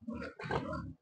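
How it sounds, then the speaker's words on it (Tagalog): A large pig on a Philippine pig farm gives two close, loud grunts in quick succession, the second longer, with no talk over them. "Ang lalaki ng baboy."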